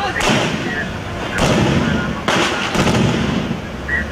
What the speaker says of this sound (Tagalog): kasunod ang palitan ng putok sa pagitan ng militar at ng MNLF Diswari faction